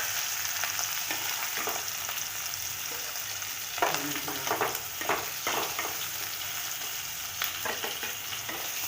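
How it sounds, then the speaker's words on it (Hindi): Fish fries in a pan on a gas stove with a steady, hissing sizzle, broken by occasional scrapes and stirring knocks. "हम लोगों का मछली तकरीबन फ्राई हो गया है।"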